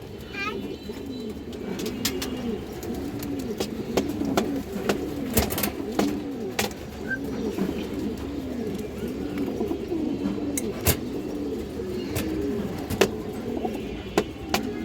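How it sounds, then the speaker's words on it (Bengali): Pigeons coo repeatedly in rolling, rhythmic phrases at a pigeon sale, close and fairly loud, with someone talking intermittently over them. "খুব সুন্দর একটা মাদি কবুতর"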